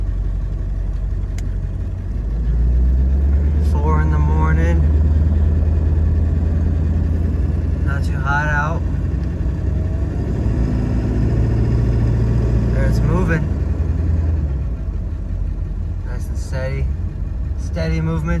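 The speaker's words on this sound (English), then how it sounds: "Let's start accelerating and see what this thing does." A Ford 7.3 Powerstroke diesel truck engine accelerating at night, a loud steady low rumble that swells and holds for several seconds before easing off, with bursts of close talking over it.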